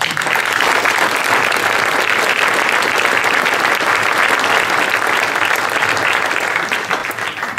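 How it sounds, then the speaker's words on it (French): Loud, dense applause from a town audience at a mayor's New Year address in Hardricourt, steady and sustained for several seconds before easing slightly at the end. "Merci de l'applaudir."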